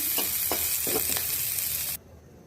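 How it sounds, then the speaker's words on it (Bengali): Dried red chillies and two thickly cut onions fry for shrimp bharta with a steady, close sizzle and a few stirring scrapes, cutting off abruptly near the end. "অনেক শুকনো মরিচ আর 2টা পেঁয়াজ এভাবে মোটা মোটা করে কেটে ভেজে নিচ্ছি"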